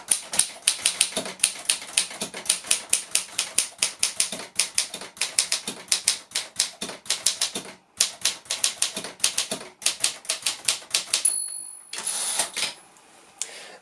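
An Imperial Good Companion typewriter is typed on two-fingered, a steady run of loud, close keystrikes with a short pause partway and a carriage bell near the end.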